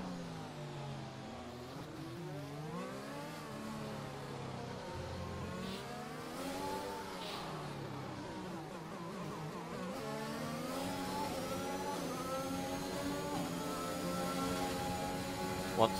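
Race car engines in a sim racing game drone and rise and fall in pitch as cars lap the track, a continuous moderately loud whine with shifting gears and no speech.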